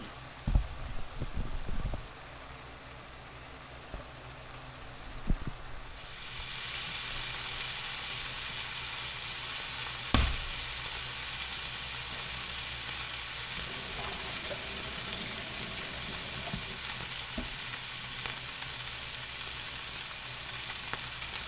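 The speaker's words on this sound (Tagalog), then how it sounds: "igigisa na natin sa bawang, sibuyas at kamatis" A steady, loud sizzle of garlic, onion and tomato sautéing in a hot pan, starting after a few soft clatters and continuing evenly with occasional utensil taps.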